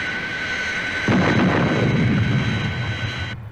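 A Fireflash jet aircraft bursts through the sound barrier: a sudden, loud, broad roar cuts in partway through and rumbles on steadily over a faint high engine whine, then cuts off abruptly at the end.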